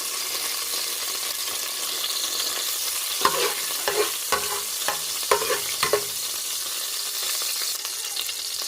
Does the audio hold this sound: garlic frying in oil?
yes